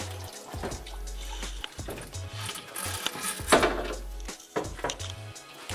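Coolant pours out of a car radiator, a Mishimoto unit on a Talon, in a steady splashing stream, loud and close, with gurgling bursts over the running flow.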